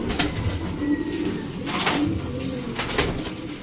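Caught pigeons coo repeatedly at close range in soft, low rolling calls, alongside rustling and handling noises.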